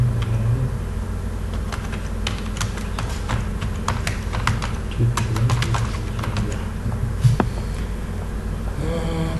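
Rapid, steady typing on a computer keyboard while filling in a WordPress install form in cPanel, dense close key clicks running throughout over a constant low background hum, no talking.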